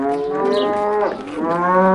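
Cows in a farmyard at milking time give long, loud, sustained moos that swell and dip, with several calls overlapping and no voices.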